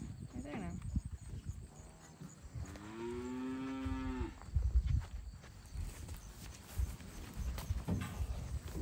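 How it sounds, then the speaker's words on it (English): Cattle on pasture jostle over hay, with one clear drawn-out moo in the middle, hooves thudding and shuffling around it and a person talking intermittently nearby. "Cows are fighting over hay."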